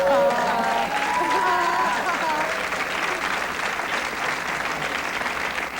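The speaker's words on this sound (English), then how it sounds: "I'm not sure I understand the applause." Applause from an interview audience, a sustained wash of clapping heard at steady volume throughout, with a voice briefly audible over the start.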